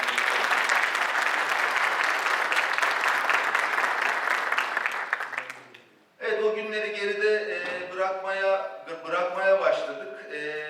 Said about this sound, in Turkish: ben kocaman bir alkış rica ediyorum.